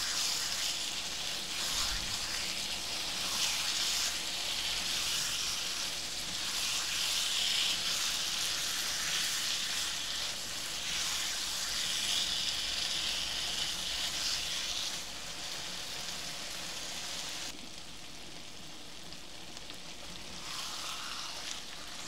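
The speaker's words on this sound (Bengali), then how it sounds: "আমরা একটু কষিয়ে নিচ্ছি যাতে মশলার যে কাঁচা গন্ধটা সেটা যাতে চলে যায়" Beef and spices sizzling in a pot while being sautéed for a Hyderabadi dum beef curry, a steady, fairly quiet frying hiss that runs on without a break.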